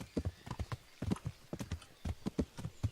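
Horse hooves clip-clop in Kingdom Come: Deliverance at a steady walking gait, with clear, evenly spaced thuds in clusters of strikes, close by and with nothing else competing.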